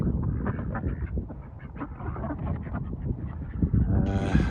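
Impatient ducks crowd in at feeding time, a nonstop overlapping clamour of quacks and honks close by, with a sharper, brighter call breaking out near the end.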